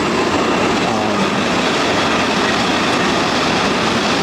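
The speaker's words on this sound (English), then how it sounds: "I'm waiting for this train to pass." A train rushes past at close range, a loud continuous roar of rail noise and rumbling wheels that stays steady and dense throughout.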